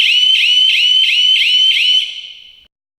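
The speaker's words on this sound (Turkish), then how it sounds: "bir süre sonra alarm ötmeye başlar" A loud electronic security alarm siren warbles in rapid repeating cycles for about two seconds, then fades out and stops.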